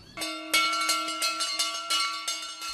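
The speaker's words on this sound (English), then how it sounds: "When the bell rings, it's time for the clients to go to rehab class." A handbell rings at an alcohol rehab centre to call clients to class, clanging loudly and close in a rapid, repeated shaking rhythm with a lingering metallic tone.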